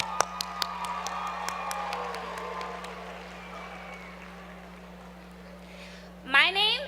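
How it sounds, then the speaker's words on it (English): Graduates at the Morgan State University December 2017 commencement clapping in a large hall, sharp scattered claps thinning out and fading, with a voice starting to speak at the very end. "Please give yourselves a round of applause."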